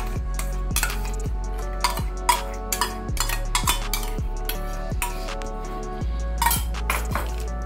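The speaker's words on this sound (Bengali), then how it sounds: "এবার আমি এর মধ্যে আমের পিউরিটা মিশিয়ে দেব।" Mango puree is stirred into warm milk with a spoon, giving repeated clinks and scrapes against the bowl in a steady, close rhythm.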